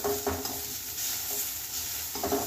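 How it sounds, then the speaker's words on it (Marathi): Ginger garlic paste sautéing in a hot oiled pan, a steady soft sizzle with a few scraping stirs of a spoon, close and unaccompanied by voices. "यातच आपल्याला 1 चमचा आले लसूण पेस्ट घालायची आहे। ही चांगली परतून घेऊया।"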